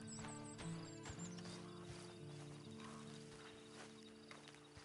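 Steady clip-clop of a horse's hooves walking in Red Dead Redemption 2, faint and even-paced beneath quiet ambient background.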